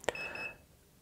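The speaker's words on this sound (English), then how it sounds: "the camera had a double beep" A short electronic double beep from an Afidus ATL-200 time lapse camera as recording starts, a single clean chirp-like tone that fades quickly into near silence.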